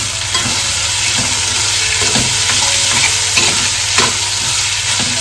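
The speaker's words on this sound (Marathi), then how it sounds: "आता टोमॅटो घालून घेतोय." Tomatoes frying with browned onion, ginger-garlic paste and curry leaves in a home kitchen pan, a loud steady sizzle close by with repeated scraping stirs of the spoon throughout.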